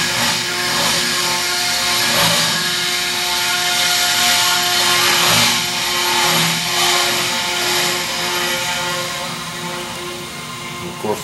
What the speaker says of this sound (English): the rest of the factory is working right along, so the noise is in the background.